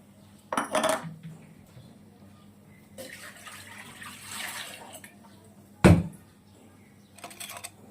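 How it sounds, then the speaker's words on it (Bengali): A pot of eggs is set down on the stove to boil. Two sharp metallic clunks stand out, one early and a louder one near the end, with softer rattling and faint water sounds between them. "ডিমটা বসিয়ে দিলাম সিদ্ধ হতে"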